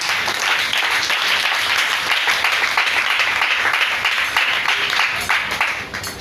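A church congregation bursts into sustained applause during a French-language sermon, dense steady clapping from many hands filling the room and holding for several seconds, loud and close, fading slightly at the end.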